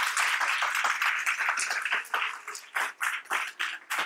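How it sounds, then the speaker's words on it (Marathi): An audience at a session claps in a run of hearty applause, dense at first, then breaking into scattered bursts that fade out near the end. "आपण आज एकदा दोनदा जोरदार टाळ्या ह्या स्पिरिटला देऊ"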